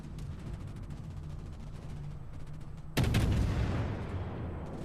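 Naval gunfire from the German Tier 10 destroyer Z52 in World of Warships, a quick, even ticking of shots in the distance and then one loud blast that rolls away into a lingering rumble.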